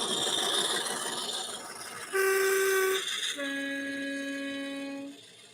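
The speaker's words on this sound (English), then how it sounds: "And here comes the Class 50, known affectionately as the Hoover." A model Class 50 diesel locomotive rumbles past, then sounds a loud two-tone horn, first a short blast and then a longer sustained one, over steady engine noise.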